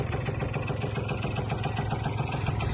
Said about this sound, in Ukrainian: Працює гарно, обгонна муфта не звенить.